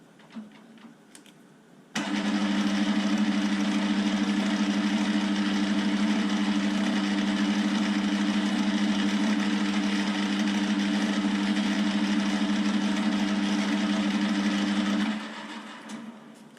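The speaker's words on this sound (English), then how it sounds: "I'm going to get a file, and we can put a bit of a chamfer on this and then see how it works." A lathe runs steadily while a file chamfers the end of a freshly cut test thread for an ER32 collet chuck. The machine's hum starts abruptly, holds loud and even for about thirteen seconds, then drops away.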